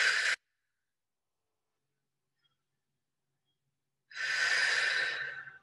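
A Pilates exercise with breathing, a short exhale at the start, a long silence, then a long, steady, close breath out toward the end, with no talk.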